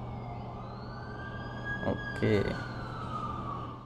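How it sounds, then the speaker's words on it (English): An ambulance siren wails with a rising and falling tone over steady background hum in The Amazing Spider-Man 2 video game, while a voice speaks briefly. "That's the ambulance I called."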